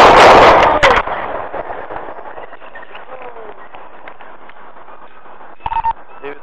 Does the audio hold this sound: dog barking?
no